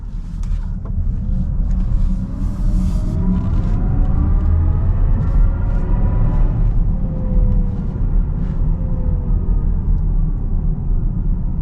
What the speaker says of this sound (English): It's a simulated noise to sound like an electric car, and we're gonna experience it right now as we accelerate out of this parking lot.